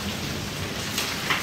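Steady hiss of falling rain after a hailstorm, with a faint low rumble of thunder underneath, constant and even throughout the short stretch, no voices.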